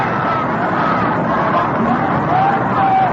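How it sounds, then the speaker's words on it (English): Fans at a World Series game between the New York Giants and New York Yankees applaud a batter coming up, a steady crowd roar and clapping that holds at an even level for the whole stretch with no voice above it. "Hadley gets a nice round of applause from the fans."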